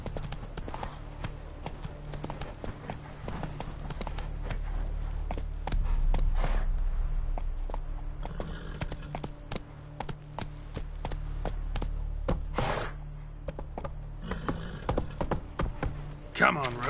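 Roach, Geralt's horse in The Witcher 3, gallops with steady rhythmic hoofbeats that run throughout, louder in stretches, while a voice talks over parts of it.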